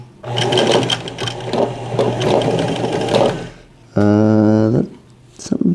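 A sewing machine stitches a fabric finger splint in a long, steady run, followed by a short burst with a strong droning whir, then a few faint clicks.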